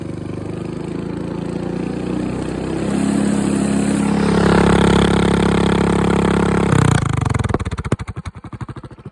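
Predator 212cc hemi small engine with a straight pipe revs up to full throttle, a loud, raspy steady drone that rises and holds, then cuts off into a sputtering, popping rundown with sharp backfire cracks.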